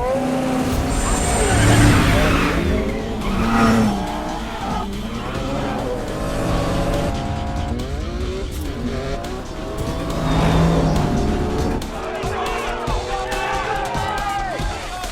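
A Porsche Carrera GT, Saleen S7 and Ferrari Enzo race one another in a film street race, with loud roaring engines and tire squeals that rise and fall, mixed with voices and other sound.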